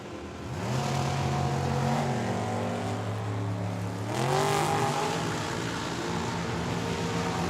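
A dragster and a Mustang launch side by side in a drag race at Tucson Dragway. Loud engines roar and climb steadily in pitch, then shift and rise again as they pull away.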